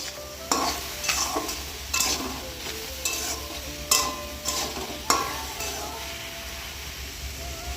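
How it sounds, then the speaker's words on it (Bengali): Mixed vegetables fry in a pan with panch phoron five-spice, a steady close sizzle broken by regular scraping spatula strokes about once a second. "তো দেখো সবজিটা বসিয়ে দিয়েছি পাঁচফোড়ন শুকনো খোলায় দিয়ে দিলাম দিয়ে একটু ভেজে তারপর সবজিটা ঢেলে দিলাম"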